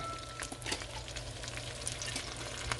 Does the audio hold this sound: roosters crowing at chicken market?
no